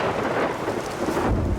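Thunder rumbles through a lightning storm in the video game Everybody's Gone to the Rapture, a deep rolling boom under steady rain that swells louder toward the end.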